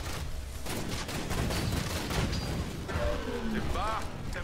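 Hemlock BF-R burst rifle fire in the video game Titanfall: repeated short bursts of shots with mechanical clatter, mixed with explosive booms, under someone talking throughout.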